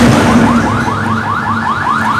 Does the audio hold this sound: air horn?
yes